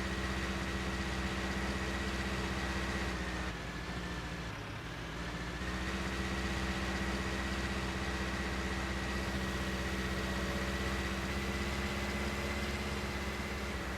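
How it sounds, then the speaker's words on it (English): A tractor engine in Farming Simulator 19 labours while pulling an implement, a steady, dense low drone with constant mechanical hum, dipping briefly midway before resuming at the same level. "we'll see if this tractor will pull this or not"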